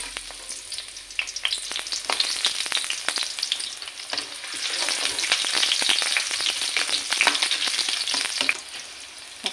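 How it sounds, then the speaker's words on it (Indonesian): Oil sizzling and frying steadily in a pan with lemongrass stalks, shallots and cardamom being sautéed, crackling spatters close and fairly loud throughout, no talk. "Kita panaskan dulu minyaknya."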